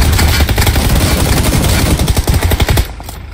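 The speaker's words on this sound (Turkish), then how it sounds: "M249'un gazabını duydunuz mu?" Sustained automatic fire from an M249 machine gun in PUBG Lite, a dense loud burst of rapid shots that stops abruptly just before the end.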